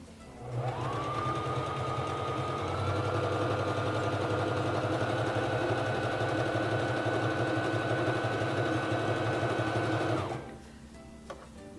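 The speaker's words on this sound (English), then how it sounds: "Lower your presser foot and begin sewing." A Singer 3333 sewing machine stitches a narrow zigzag in one continuous run, its motor whirring close and steady for about ten seconds before stopping.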